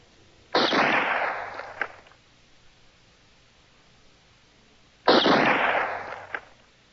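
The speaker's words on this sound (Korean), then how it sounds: "유신의 종말을 고했던 총소리" Two sharp, loud blasts a few seconds apart, each with a fast attack and a rough, noisy decay lasting over a second, in an otherwise quiet room.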